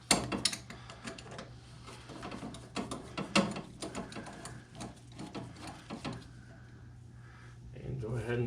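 A ratchet works a suspension bolt loose on a CanAm Outlander ATV during a wheel bearing and axle repair, giving close, irregular clicks and metallic clanks over a steady low hum.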